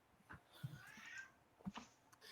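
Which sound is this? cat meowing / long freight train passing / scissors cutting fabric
cat meowing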